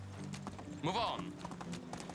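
Horse hooves clip-clopping in the medieval video game Medieval Dynasty, a quiet rhythmic trot with a short whinny partway through, heard under a person speaking.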